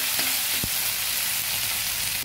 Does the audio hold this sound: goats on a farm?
no